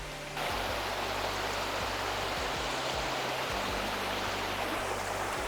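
A small cascade pours over rocks into a flowing stream, a loud constant rushing wash of water that starts abruptly and holds steady throughout, with no voices.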